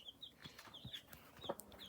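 A broody hen clucks softly and repeatedly up close while five newly hatched chicks peep in high, thin chirps around her.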